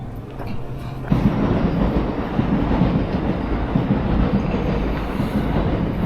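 Passenger train on a scenic day-trip line near Kyoto, Japan, rumbling steadily with a low, continuous roar and faint wheel clatter throughout, no voices.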